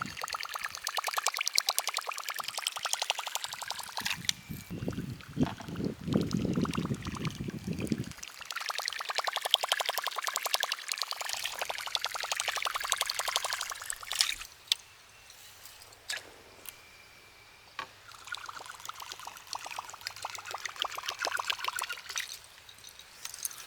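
A Plopper or Choppo topwater lure churns and splashes along the water beside a boat, with gurgling, sloshing surface noise rising and falling in bursts, close by and fairly loud.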